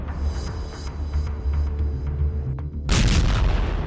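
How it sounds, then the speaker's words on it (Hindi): A heavy explosion rumbles during the nighttime bombing of Kharkiv, a deep low booming roll with faint cracks, then a sudden louder burst of broadband blast noise near the end. "देर रात खार्किव में जोरदार धमाका हुआ।"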